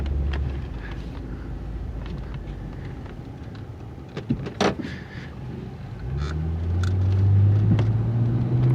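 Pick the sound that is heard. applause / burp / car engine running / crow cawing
car engine running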